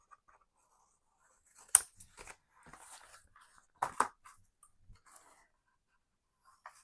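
Scissors snipping paper during a crafting session on an altered half-size composition notebook, a few quiet, sparse cuts and rustles with long silent gaps between them.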